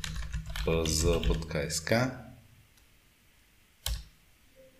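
Quick clicking keystrokes on a computer keyboard, close and fairly quiet, run under someone speaking, then a single louder key tap follows after he stops.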